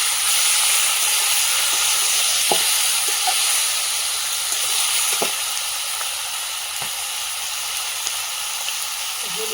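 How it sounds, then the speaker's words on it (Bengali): Meat going into a hot pan for a home-cooked curry, producing a loud, continuous sizzle and hiss with a few light stirring knocks, steady throughout with no talk. "মাংসটা দিয়ে দিচ্ছি এর মধ্যে"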